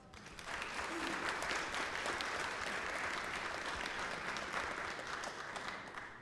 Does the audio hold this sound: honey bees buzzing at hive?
no